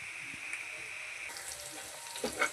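Onions browning in a pan give a steady, moderate sizzle that swells partway through, and stirring adds a few sharp scraping strokes near the end. Nobody speaks.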